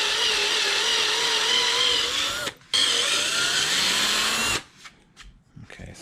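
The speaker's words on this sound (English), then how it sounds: "we're just going to drill" A power drill whirs steadily at high speed, pauses briefly, runs again with shifting pitch, then stops, leaving faint clicks and handling noises.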